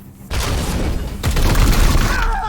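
Support-fire explosions in Warhammer 40k: Chaos Gate - Daemonhunters, a sudden loud blast followed by a second rumbling impact and crackling debris, close and heavy.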